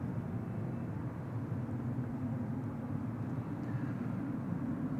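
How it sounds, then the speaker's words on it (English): A KLM airliner on arrival at Amsterdam Schiphol Airport, heard as a steady, distant low jet rumble with a broad hiss, holding even and unbroken throughout with no voices. "KLM flight 736 arriving from Willemstad, Curaçao"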